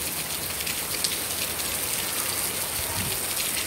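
Steady, dense rain falling and drumming on surfaces outdoors, a continuous broadband wash of droplets that holds at a fairly loud level throughout, with no talk over it.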